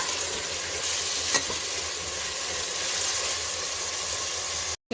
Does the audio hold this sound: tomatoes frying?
yes